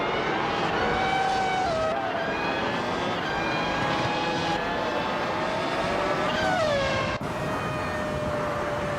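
Race cars on the Bahrain desert track howl steadily with high-pitched engine notes, and one car sweeps past with a falling pitch before another engine takes over, loud and close.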